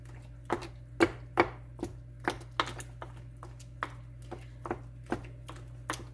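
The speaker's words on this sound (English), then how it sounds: "So just go around with the spoon in a chopping kind of motion." A spoon strikes and chops into milk-soaked bread in a steady series of muffled taps, close and fairly quiet, over a low background hum.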